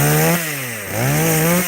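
Chainsaw engine running close and loud, its pitch dipping as the revs drop and then climbing back up, heard on its own while wood is being cut.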